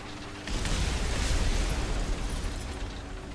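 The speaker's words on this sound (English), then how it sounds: "I dropped all them bombs for nothing" Bombs explode in the War Thunder ground-forces tank game, a sudden deep blast that opens into a long rumbling roar and then slowly fades.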